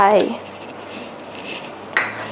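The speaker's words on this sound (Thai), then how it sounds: "หมูสับค่ะ กุ้งสับผสมกันลงไป" Minced pork and shrimp mixed together in a bowl with a utensil, close and clattery: a sharp scrape-and-clink at the start, soft stirring, then another quick knock against the bowl.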